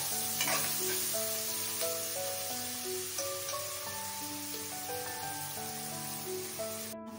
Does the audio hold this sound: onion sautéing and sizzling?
yes